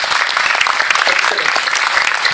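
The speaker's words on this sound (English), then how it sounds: "we can give you one round of applause" An audience at an international conference claps in a hall, giving a brief, dense, even round of applause.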